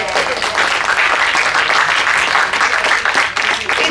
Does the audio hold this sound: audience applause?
yes